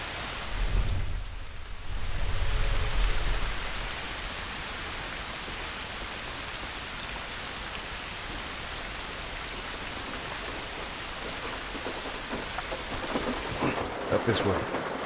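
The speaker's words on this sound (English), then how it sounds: "This rain ain't gonna do us any good." Steady rain pours in The Last of Us Remastered, a dense wash of drops on surfaces, opening with a low rumble of thunder and a brief distant rumble again near the end, with no talk over it.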